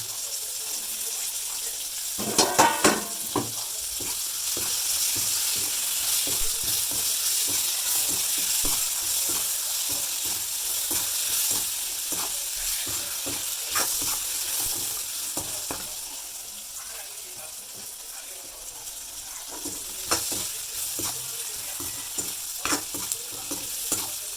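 Curry with dried fish stir-fries in a pan, a continuous close sizzle with frequent scraping stir strokes and occasional louder clanks, steady throughout with no talking.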